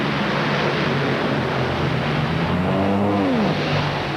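A 2000 NHRA drag racing car roars loudly off the line at a racetrack, the engine note dropping as the throttle lifts and then surging again, a continuous harsh roar heard alone.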